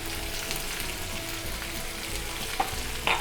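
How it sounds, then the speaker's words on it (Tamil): Boiled, cut potatoes seasoned with salt and red chilli powder roast in hot oil in a pan, giving a steady close sizzle with faint stirring scrapes and a couple of brief clinks near the end. "நல்லா அந்த எண்ணெயில் அப்படியே ரோஸ்ட் ஆகட்டும்"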